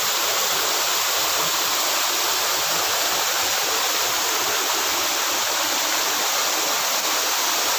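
Steady roar of Salakot Falls near Napsan, Puerto Princesa, with rushing water, loud and unbroken from start to finish, no voices.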